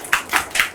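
A few quick hand claps in a classroom during a gynaecology group discussion, four sharp close bursts in under a second with no talk.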